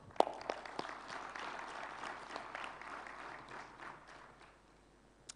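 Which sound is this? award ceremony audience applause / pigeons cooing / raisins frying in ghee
award ceremony audience applause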